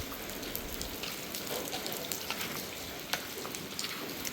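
Steady rain falls outdoors in a forest during a mushroom-foraging trip, a dense even hiss with scattered sharper drops landing close by, no voices over it.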